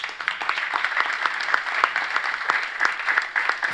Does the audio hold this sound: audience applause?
yes